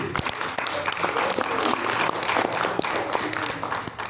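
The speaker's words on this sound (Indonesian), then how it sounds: "mari kita beri tepuk tangan yang meriah untuk seluruh peserta dan juri pada hari ini" An audience at a news anchor competition applauds participants and judges with a full, sustained round of clapping, a few sharper claps standing out near the front.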